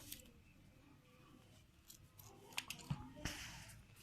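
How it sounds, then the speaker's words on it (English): Scissors snip through woolen thread for a school art activity, giving a few quiet, close clicks and snips near the end after a soft, near-silent start. "that much I will cut the woolen."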